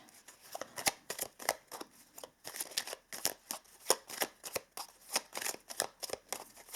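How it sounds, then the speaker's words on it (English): Chakra Love oracle cards are shuffled and drawn from a deck in quick, rhythmic bursts of papery riffling and flicking, close and crisp with no talking. "Now let us pull some Chakra Love cards in the end today."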